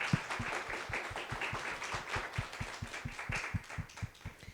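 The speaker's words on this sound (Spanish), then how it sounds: "Un aplauso para Felisa, por favor." Audience applause at a women's political dialogue event, a soft, fairly distant patter of clapping with rhythmic beats that holds steady for several seconds without talk.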